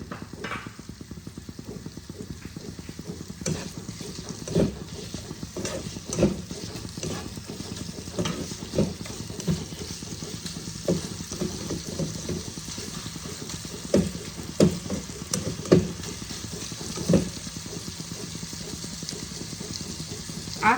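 Chopped tomato cooking in a pan, a low steady sizzle with frequent scraping and clinking of a spatula stirring, irregular knocks recurring throughout.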